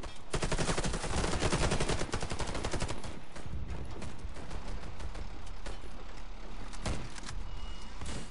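Sustained rapid automatic fire from the FY 47 rifle in the shooter game Warface, a dense unbroken rattle of close, loud shots that continues for several seconds with no talking.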